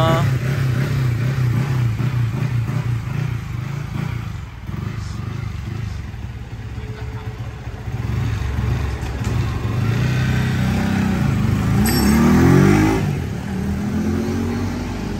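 A Yamaha Y16ZR motorcycle with a 65mm bore and VVA engine runs on a dyno, its loud engine droning and revving through gear changes, with the pitch rising again near the end. Talk is faint or absent.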